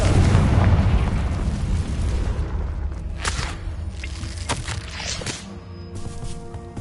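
The fire spell Confringo in Hogwarts Legacy sets off a rumbling fiery explosion with a heavy low boom at the start. The boom decays into crackling debris and scattered sharp pops, with no voices.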